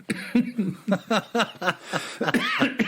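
A string of short, sharp coughs in an uneven rhythm, close by and fairly loud, some sounding almost like chuckles.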